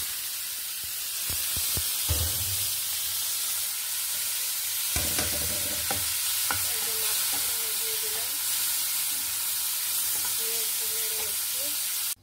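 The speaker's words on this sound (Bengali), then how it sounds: "এখন আমি মাছটাকে ভেজে নিব। এই জন্য দিয়ে দিলাম মাছ।" Shrimp frying in hot oil in a frying pan, a steady bright sizzle and hiss throughout, with sharp spattering pops and stirring clatter near the start, close and loud.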